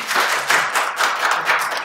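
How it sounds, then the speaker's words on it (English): Audience clapping at a digital marketing talk, a steady patter of many hands that swells and dips in loose waves for under two seconds, with no voices over it. "And clap a bit"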